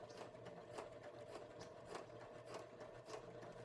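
A sewing machine topstitches down a coat shell, running in a steady, continuous whir with a regular rhythmic pulse of the needle, close and moderately quiet throughout.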